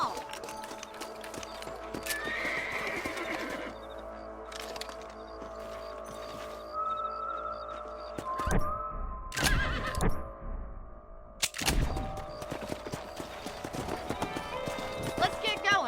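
Horses in the Red Dead Redemption video game clip-clop along at a steady pace, with loud whinnies and neighs breaking through around the middle, set against game music and ambient sound with brief spoken lines.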